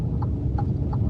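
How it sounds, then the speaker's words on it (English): An Alfa Romeo Giulia Quadrifoglio's turn signal ticks three times in an even rhythm, each click sharp and fairly loud over a low, constant engine hum inside the car. "Still one of the loudest turn signals I've ever heard in a car."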